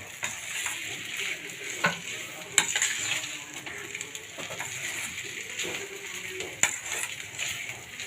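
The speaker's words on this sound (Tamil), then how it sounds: "மிதமான சூட்டில் 2 நிமிஷம் நல்லா கிண்டி விட்டுக்கோங்க" Dry pepper chicken sizzles in a pan while being stirred over medium heat, a steady frying hiss with scattered clinks and scrapes of the spoon, near and fairly loud, with no talking.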